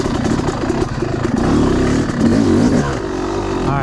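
A Yamaha YZ 250 two-stroke dirt bike in a woods setup runs close by, its engine buzzing loud and raspy with rising revs and brief throttle blips throughout.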